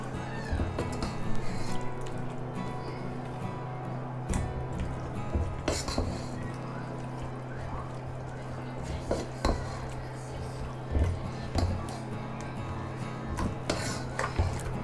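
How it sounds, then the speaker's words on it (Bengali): Chicken gizzard, liver and meat are mixed in a pot with a spoon, making repeated scrapes, clinks and knocks at an uneven rhythm for about fifteen seconds, close by. "এখন আমি এগুলো খুব ভালোভাবে মিশিয়ে নিব।"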